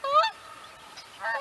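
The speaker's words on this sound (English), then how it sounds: "That Canada goose honking" Canada goose honking in a wetland marsh: two loud, nasal honks, one at the start and another near the end, separated by a quiet gap with faint background.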